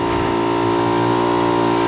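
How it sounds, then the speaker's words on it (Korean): A motorcycle engine in the video game PUBG drones loud and steady, a close, even, buzzing hum that holds without a break. "야, 오토바이 타고 달려간다"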